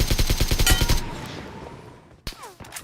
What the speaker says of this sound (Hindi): चारों तरफ से भाई फायर हो रहा, चारों तरफ से एसकेएस चल रही है, स्नाइपर चल रही है, M4 चल रही है।